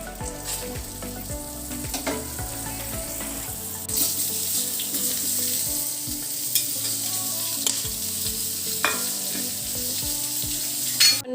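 Butter sizzles in a hot pan on a gas stove, a steady close crackle broken by clinks and scraping of a utensil, with a brief watery rush partway through.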